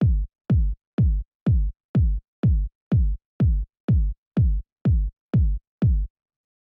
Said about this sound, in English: we have this big boomy kick